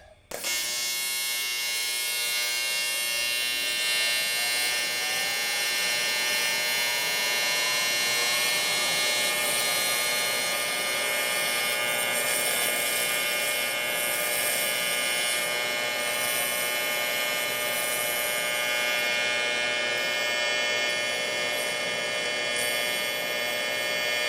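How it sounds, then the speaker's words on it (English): Old cast aluminum is TIG welded with Neptune TIG filler, without any prep. A loud, steady electric buzz with a humming undertone runs unbroken for about twenty-four seconds, close by, with no voices. "we'll be able to weld on this without any kind of prep"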